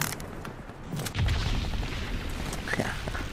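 Gunfire in the video game Crysis 3 comes as a heavy boom and a few distant, muffled shots under a dense, rumbling game soundscape, with no talking.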